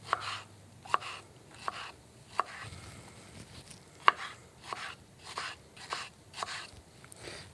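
A knife chops through mango on a cutting board in a steady series of crisp, fairly close taps, roughly one every half second to second, with no talking.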